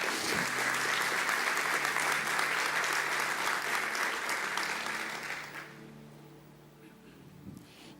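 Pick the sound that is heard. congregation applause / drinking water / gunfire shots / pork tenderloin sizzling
congregation applause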